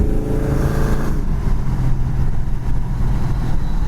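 A 1971 Dodge Charger cruising down the road with the driver's window open, its engine a steady, moderate low rumble mixed with road and wind noise throughout, calm rather than loud.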